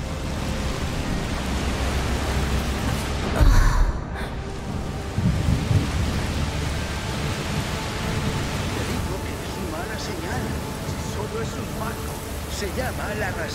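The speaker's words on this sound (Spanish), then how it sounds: "La lluvia empeora. Solo es una tormenta." Steady rain and a thunderstorm in the A Plague Tale: Requiem video game, with a constant broad hiss of rainfall and one low, rumbling thunder crack partway through.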